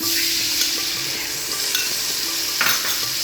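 Water poured into a hot pan for a rohu fish curry with pointed gourd and potato bursts into a loud, steady hissing sizzle that stays close and continuous throughout.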